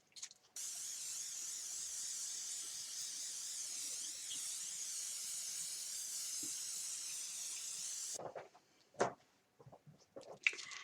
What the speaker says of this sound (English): We sprayed it with hairspray to seal in